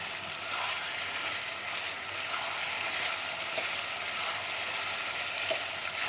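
Chicken pieces frying in a pan over a medium-high gas flame, giving a steady, close hiss of sizzling oil throughout with faint clicks of occasional stirring.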